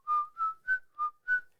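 Someone whistles five short, clear notes in an even rhythm, each a brief steady tone, close and fairly soft.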